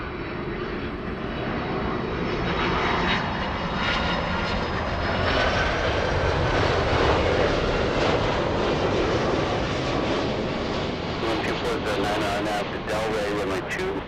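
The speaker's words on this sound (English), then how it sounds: "Big 767 flying in. Delta 501 flying in from Atlanta." A Delta Boeing 767 arriving at LAX roars overhead, its jet engines a broad sustained rush that swells and holds, with radio chatter and a voice talking over it.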